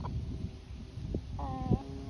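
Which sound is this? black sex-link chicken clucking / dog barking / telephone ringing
black sex-link chicken clucking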